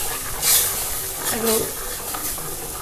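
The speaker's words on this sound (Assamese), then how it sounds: "এনেকৈ লৰাই থাকিব।" Mango jelly mixture is stirred in a pan, a soft scraping swish repeating at a slow pace while a person talks over it.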